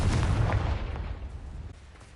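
Confringo spell explosion from the Hogwarts Legacy video game, a single muffled booming blast that decays into a fading rumble over a couple of seconds.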